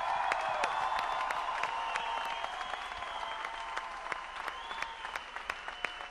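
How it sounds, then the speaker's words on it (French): Steady applause from an audience, dense clapping with some cheering mixed in, holding at an even level throughout. "dernière main d'applaudissement pour toute l'équipe d'Énergie"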